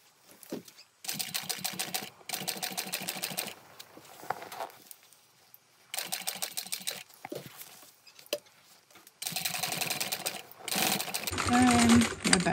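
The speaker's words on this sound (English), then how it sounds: "I just want to come in and sew this here down within the seam allowance" A sewing machine runs in several close bursts as it stitches a seam on a small backpack, with short pauses between runs and a steady rapid whir during each.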